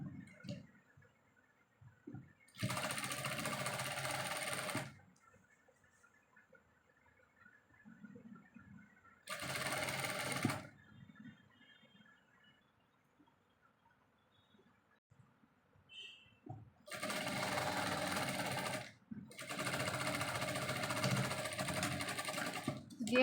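A domestic sewing machine stitching the folded neck edge of a vest, heard in three or four loud bursts of rapid whirring separated by quieter pauses with faint handling sounds.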